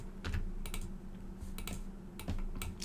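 Keys on a computer keyboard are pressed in small bursts of crisp clicks, close and clear in a quiet room, with short pauses between the groups of taps.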